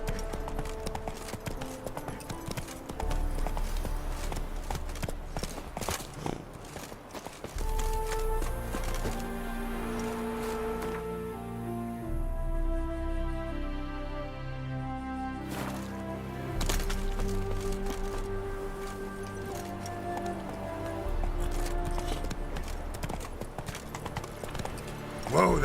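Roach the horse's hooves clip-clop steadily in The Witcher 3, a close, even walking rhythm over game music, with a brief spoken line partway through.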